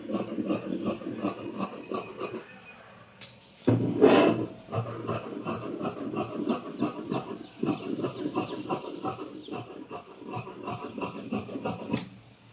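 Scissors cut through fabric for a maxi dress in a rapid series of close, rhythmic crunching snips, pausing briefly before a rustle of cloth being handled, then resuming in a steady run of cuts.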